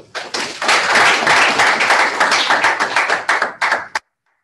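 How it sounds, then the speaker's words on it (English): Students at a freshers' orientation on a university campus clap together in a dense, loud burst of applause that holds steady for about four seconds, then thins into a few scattered claps before stopping abruptly. "can you clap for everyone who has made it possible, even yourself?"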